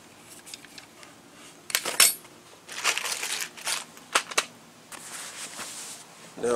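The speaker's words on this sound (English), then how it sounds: "Just use this rivet gun here." Rivet gun setting rivets for the emblem on a 1989 Chevy Caprice: a series of sharp, irregular snaps and crunches, close and crisp, separated by short quiet gaps.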